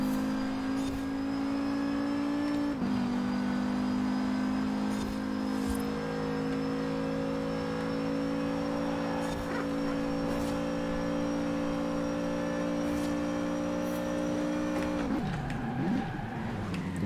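A race car engine in the Live for Speed video game drones steadily and loudly throughout, holding a sustained pitch, with a shift in tone near the end as the revs change.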